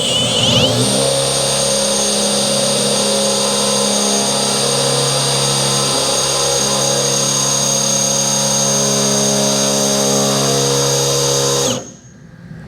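A power drill with a dull bit runs steadily for about twelve seconds while drilling a hole, a loud, close, continuous motor whine with a constant high tone, then cuts off abruptly.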